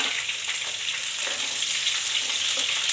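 Garlic, ginger and green chillies fry in a pan with a steady, close crackling sizzle that runs the whole time, with a few brief pops and faint stirring scrapes.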